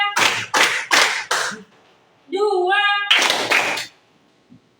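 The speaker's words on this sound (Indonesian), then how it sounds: "Tepuk 1, tepuk 2, tepuk 3" A class of sixth-grade students clapping in a school classroom, several counted group claps in a steady rhythm, with voices chanting between them.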